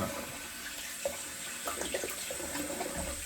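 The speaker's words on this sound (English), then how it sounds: "that a little shoosh with some cold water, just to close the pores up" Cold tap water runs steadily in a continuous hissing rush while rinsing after a wet shave, with small splashes and clinks breaking through the stream.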